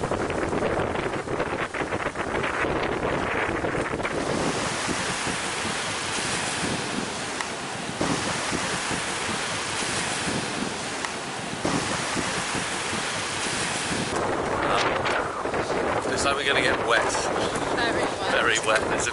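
Squall wind roars across a sailboat at sea off the Caribbean cays near Mayreau, with steady loud wind buffeting the microphone and waves rushing and breaking throughout, while people talk now and then.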